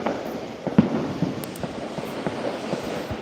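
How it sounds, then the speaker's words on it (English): Fireworks set off nearby by a neighbor during a party, heard as a string of dull pops and crackling bursts over a rumbling, noisy background, with no talking. "He's lighting up fireworks."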